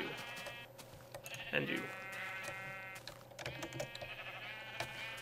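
A sheep bleats in the Minecraft video game, a short harmonic cry near the middle heard alongside computer keyboard typing, with someone talking over it.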